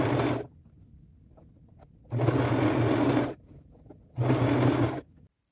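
A sewing machine stitches an appliqué onto a flannel shirt in three separate runs, each a steady whirring buzz lasting about a second, with quiet gaps between them.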